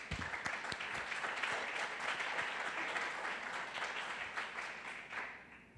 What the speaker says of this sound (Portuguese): Quantos podem aplaudir o Deus vivo?